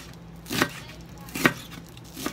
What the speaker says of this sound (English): I'm gonna chop up some lettuce.